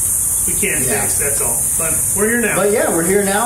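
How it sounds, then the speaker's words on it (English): Cicadas shrill in the morning in a steady, loud, high-pitched drone that never lets up, heard under people talking close by. "So if you can hear all these cicadas right now, it's because it's morning."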